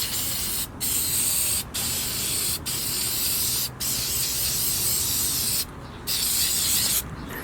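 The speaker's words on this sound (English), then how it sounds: "You're gonna spray over top of it with the activator." An aerosol can sprays activator onto hydro dip film in a series of close, loud hissing bursts separated by brief pauses, about seven bursts in all, with no talking.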